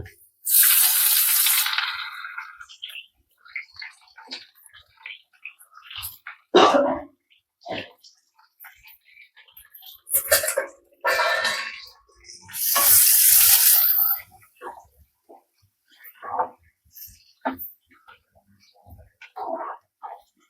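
Chopped onions hit a hot pan with green chillies while vermicelli upma is being made, giving two loud bursts of hissing sizzle, with a person talking in between.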